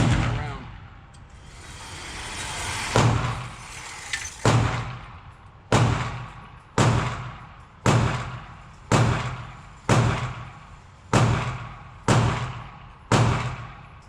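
Shots from a CZ P10c Ported pistol at a shooting range ring out one at a time at a steady pace, each a loud, sharp crack that fades quickly, with about eleven shots in a row and no talking.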